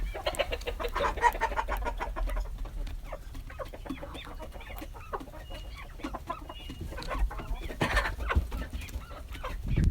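Several chickens cluck and chatter steadily nearby, overlapping calls forming a busy, continuous flock sound over a low background hum.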